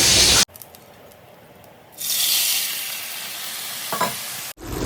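Fish frying in a pan with mustard, chilli and cumin, heard as a loud burst, a brief quieter gap, then a steady close hissing sizzle with a faint knock near the end and no speech.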